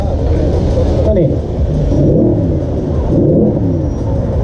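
A steady low engine rumble and drone from an Audi Q7 with a three-litre diesel engine under acceleration fills the cabin, while someone talks over it throughout.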